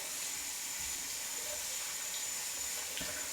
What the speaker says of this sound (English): I use extremely hot water from the tap